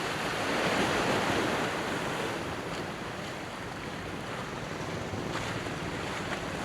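Ocean surf rolls steadily along a seaside shore, a broad washing roar that swells and eases slightly, mixed with wind buffeting the microphone and no voices.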